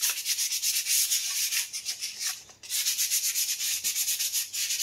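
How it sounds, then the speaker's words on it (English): Sandpaper rubs rhythmically over a 3D printed plastic piece, producing close, scratchy back-and-forth strokes with a short pause midway, and no talking. "Do it a little sanding"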